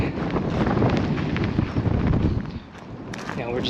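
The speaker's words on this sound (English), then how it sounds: "It's really windy." Gusty wind at San Luis Reservoir batters the microphone with a loud, continuous rumbling rush that eases slightly near the end.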